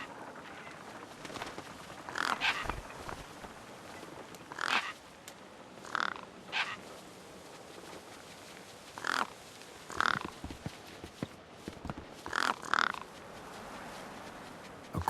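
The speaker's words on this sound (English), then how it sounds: "No way I was going to get between those birds and their feast." Birds feasting on a corpse propped against a rock in the game Beyond a Steel Sky: harsh crow-like caws come in short separate bursts, some paired, over a quiet ambient bed, with no talking.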